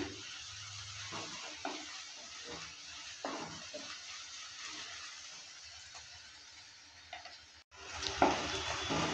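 Chopped onions frying with a little salt in a pan give off a steady, close sizzle with soft stirring scrapes throughout, briefly dropping out near the end before rising again.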